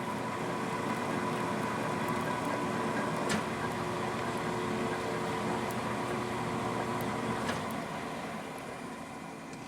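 A metal lathe cuts a metric thread for a tailstock taper attachment with the half-nut engaged, giving a steady, continuous machine hum and whine that holds evenly throughout with a couple of faint clicks, fading slightly at the end.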